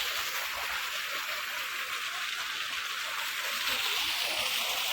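Irrigation water runs steadily through a wheat field, a continuous broad rushing wash that holds even and close throughout with no pauses.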